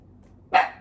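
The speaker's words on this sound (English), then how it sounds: "What are you barking at? Don't you be barking." One sharp dog bark rings out nearby after a moment of quiet background hum.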